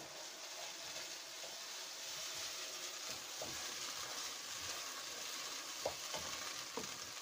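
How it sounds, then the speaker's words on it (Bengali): Garlic and ginger paste, two teaspoons each, stirred and fried for a goat meat curry, giving a steady soft sizzle with a few brief scraping clicks from the spoon, quiet and without talk. "2 টিস্পুন গার্লিক এবং 2 টিস্পুন জিঞ্জারের পেস্ট একসাথে মিশিয়ে দিয়ে আমি এটাকে নেড়ে দেব।"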